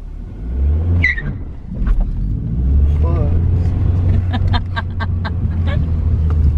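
A manual-transmission car engine revs loudly with too much accelerator, a steady close rumble that rises and falls, while people talk over it inside the car.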